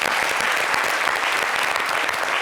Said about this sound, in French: il faut qu'on l'applaudisse d'ailleurs